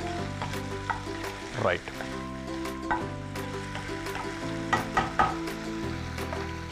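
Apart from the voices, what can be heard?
chicken frying in a pan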